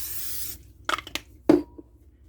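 A spray bottle gives a long hiss, then several short quick spritzes follow in a quiet room.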